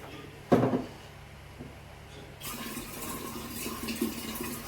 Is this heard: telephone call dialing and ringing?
no